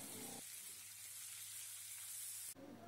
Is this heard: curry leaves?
yes